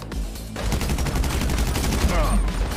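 Gunfire in GTA 5 crackles as a dense, continuous burst of rapid shots, loud and close, with a voice faintly present beneath.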